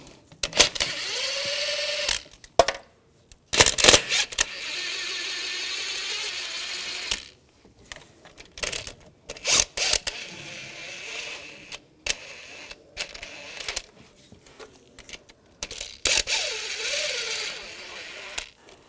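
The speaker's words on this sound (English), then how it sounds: "Using a 12mm socket, take the nuts out." A ratchet with a 12mm socket loosens the turbocharger nuts on a 2004–2009 Audi A4 Quattro 2.0L, giving close, repeated bursts of metallic clicking broken by short pauses and clanks of tools.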